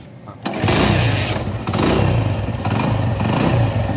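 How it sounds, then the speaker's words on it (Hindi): A motorcycle engine, with a fault where oil is not coming through, cranks and catches, then idles with a loud, close, uneven rumbling chug and slight revving. "अब हम बाइक को स्टार्ट करते हैं।"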